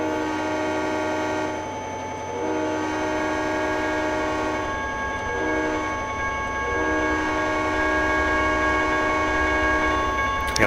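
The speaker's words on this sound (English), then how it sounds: "let me blow the horn here" A diesel locomotive's horn in Trainz 2010 on the Saginaw Subdivision grain run sounds in long, loud sustained chords with short breaks, over a steady engine rumble and no talk.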